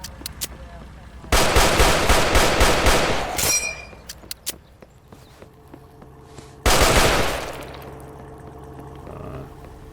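M1 Garand rifle fire in the shooter Those Who Remain: a loud burst of rapid shots, then a short metallic ping, a quieter pause with small clicks, and a second brief volley of shots.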